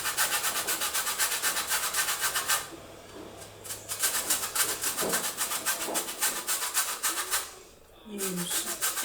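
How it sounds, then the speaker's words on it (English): An orange is zested on a grater, with rhythmic scraping strokes repeating close by. The rasping pauses briefly near the start and again near the end. "I'm going to quickly zest an orange using a grater"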